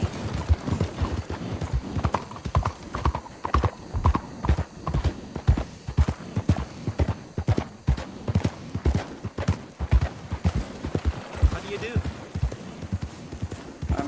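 Horse hooves clip-clopping in a western video game, a rapid steady galloping rhythm of loud close hoofbeats, with people talking over it.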